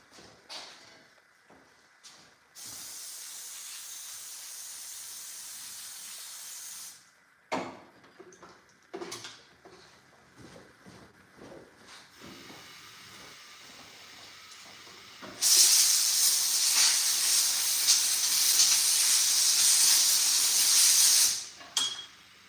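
Bursts of pressurized spray hiss loudly while rinsing out an RC car's gooey front differential, a few seconds each, with clicks and handling noises in between, the last burst the longest and strongest.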